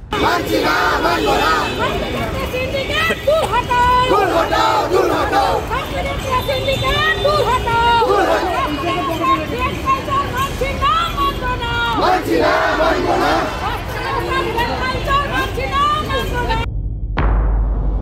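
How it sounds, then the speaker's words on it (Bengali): Nurses march through a street protest over pay disparity, with a large crowd chanting loudly and continuously. Slogans and voices overlap in a dense, rhythmic roar that cuts off abruptly near the end. "তাই তারা রাস্তায় নেমে প্রতিবাদ মিছিল এবং স্বাস্থ্য ভবনে ডেপুটেশন দেন"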